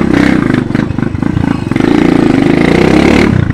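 A modified Munna Shapater motorcycle engine revs loudly and close up, a rough throbbing roar that dips briefly then surges again before easing off.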